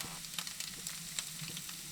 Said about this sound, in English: crumbling some extra firm tofu in a hot pan with oil and let it get crispy